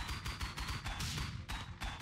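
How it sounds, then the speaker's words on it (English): Heavy cannon fire in the vehicle combat game Convoy, a dense run of booming shots in quick bursts, loud and close, with brief gaps between volleys. "Holy shit, the cannon's great."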